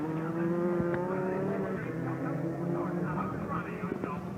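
A WRC rally car slides through a slippery, muddy corner at the Silverstone super special stage, its engine droning with wavering pitch under tyre noise, heard at a distance beneath a commentator's voice.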